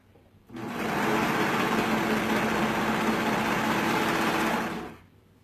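A sewing machine stitches a side seam of a lining in one steady, continuous run of about four seconds, a close, even whir with no pauses and no talking.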